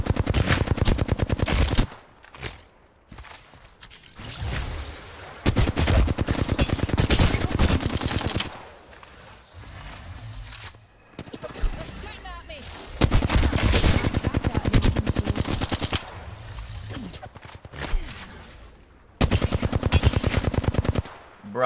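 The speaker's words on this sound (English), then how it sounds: "stop shooting me in the back with your sniper" Rapid gunfire from an online shooter video game, with loud bursts of repeated shots in several long volleys separated by brief quieter gaps.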